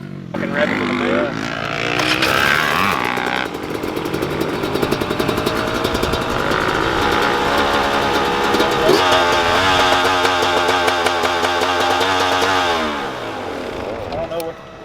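A race vehicle's engine at a track is revved hard, rising and falling in loud, rough bursts that sweep up and down in pitch, with people talking nearby over the noise.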